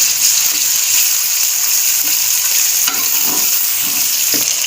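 Onions and tomatoes fry in ghee for a mutton curry, a loud, continuous sizzle heard up close with occasional stirring scrapes and no voices.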